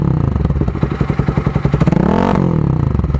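A motorcycle fitted with an Akrapovic dual-outlet exhaust revs hard up from a rapid, throbbing idle, the pitch climbing and then dropping back. It is loud and close, with no talking.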